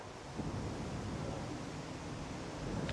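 Strong wind of roughly 20 to 25 miles an hour blowing across an open golf course, a steady low rushing roar buffeting the microphone, faint and continuous with no talking.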